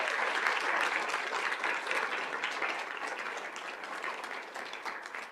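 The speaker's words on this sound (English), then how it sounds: "One more big round of applause for them." A room of attendees at a school district governing board meeting applauds students, a dense, steady round of clapping that carries on for several seconds and slowly fades toward the end.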